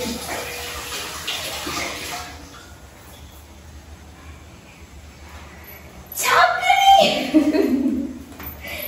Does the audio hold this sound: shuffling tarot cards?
no